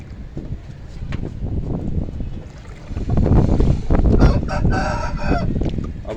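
Chickens and a rooster in a poultry yard cluck and crow repeatedly, fairly close and loud, with a rooster's crow rising in the second half over busy background clucking and some wind noise.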